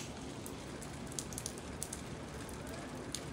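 Heavy rain falling during a family road trip from Hunza to Naran in the mountains, a steady hiss of drops with scattered louder splats and crackles close by.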